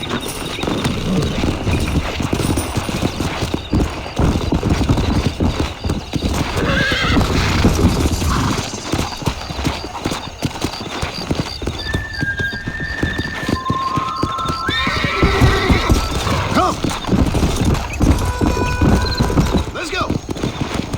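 Horses galloping in the Western video game Red Dead Redemption, steady clip-clop hoofbeats throughout with whinnying neighs, mixed with music and voices talking over the ride.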